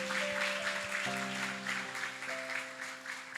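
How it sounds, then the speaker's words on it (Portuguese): An audience at a live show applauds the sound technicians, and the steady, loud clapping is mixed with sustained musical tones in the background. "vamos aplaudir os técnicos de som nessa noite?"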